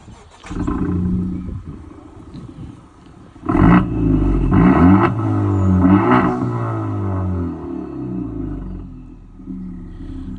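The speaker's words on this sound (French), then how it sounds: "Écoutez ce beau bruit, 4 cylindres turbo." Honda Civic Type R FK2 with a four-cylinder turbo engine revving, a deep rumble with several sharp throttle blips and sustained revs, loud and close with no talk.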